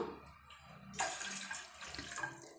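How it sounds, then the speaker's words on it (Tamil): Water pours from a tumbler into a pot while making tea, a steady splashing gush that begins suddenly after a quiet start and runs close and fairly clear. "இந்த டம்ளரில் ரெண்டு டம்ளர் அளவுக்கு நம்ம தண்ணி சேர்த்துக்கலாங்க"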